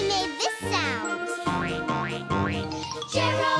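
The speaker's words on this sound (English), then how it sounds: "Gerald McBoing Boing" Springy cartoon boing effects bounce in quick succession, bright and twangy with rising and falling pitch, standing in for a voice in an animated children's show, with music and other effects underneath.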